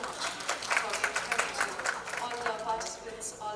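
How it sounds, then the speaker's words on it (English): An audience at a hall session gives steady, scattered applause of many hands clapping together, mixed with a voice speaking over it. "Huge round of applause for everyone present here."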